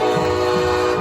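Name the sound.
train horn blasted after a touchdown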